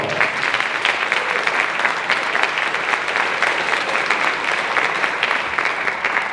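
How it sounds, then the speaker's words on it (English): A concert audience gives dense, sustained applause for high school band students, a steady wash of many hands clapping with no pause across the whole stretch. "Let's give these students one more big round of applause."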